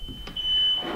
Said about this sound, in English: Very literally set the smoke alarms off in the house.